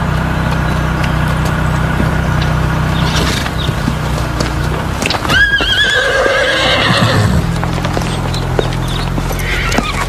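Horses clop their hooves at a steady pace over a constant low rumble, and midway one horse gives a loud, wavering whinny.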